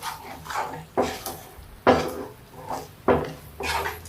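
A spoon scrapes and knocks against a pan while beetroot halwa is stirred, giving intermittent clanks and scrapes about once a second, fairly quiet and close.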